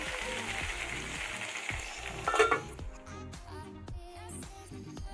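Potato and brinjal curry frying in a pan, a bright continuous sizzle with rhythmic stirring scrapes that swells briefly, then settles into quieter crackling.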